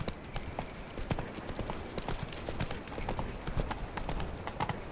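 The horse Roach gallops in The Witcher 3: Wild Hunt, its hooves drumming in a steady, fast, close clip-clop rhythm throughout, with faint ambient game sound beneath.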